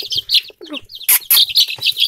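Easter Egger bantam chicks chirp in a rapid, overlapping run of high, thin peeps, close and fairly loud, with faint background voices beneath.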